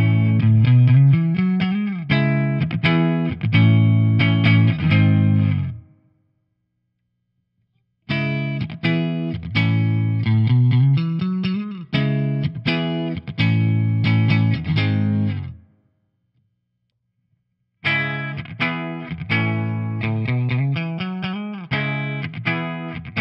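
Michael Kelly Hybrid 55T electric guitar with its pickups split to single-coil, played in three loud phrases of strummed chords and quick runs with a distorted, chorus-like effect, separated by short silences; no talking.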